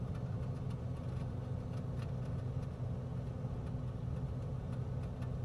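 A propeller aircraft engine in a flight simulator game holds a steady low drone on final approach, continuous and even with power kept up.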